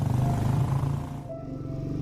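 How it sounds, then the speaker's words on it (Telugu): A Royal Enfield Thunderbird motorcycle engine thumps at a steady idle, close and loud, its low, even pulsing beat rolling on without a break. "నా హార్ట్ బీట్ నా బైక్ సౌండ్తో సింక్రనైజ్ అయింది"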